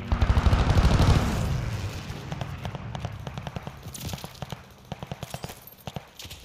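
Rapid strafing gunfire from attacking aircraft in the Snoop Dogg Arms Race game, a loud sustained volley up front that breaks into sharp separated shots and clattering bursts.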